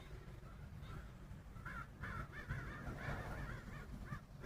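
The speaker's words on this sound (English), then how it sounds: "Bunches of crows." Several crows caw in a loose group outdoors, a series of raspy calls clustered near the middle, fairly distant and faint over low rumbling background noise.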